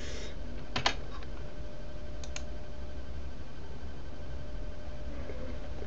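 Clicking keys on a computer keyboard, a couple of short bursts of typing over steady background hiss, faint and close, with no voices.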